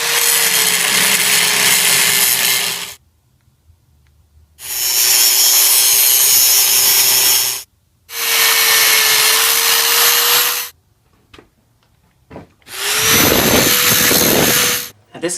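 A power tool whines in three long bursts separated by short pauses, loud and close, sawing through foam rubber, with a fourth burst starting near the end.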